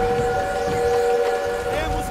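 A train in Call of Duty WWII sounds a steady, whistle-like tonal blare over rumbling, clattering rail noise, loud and continuous throughout.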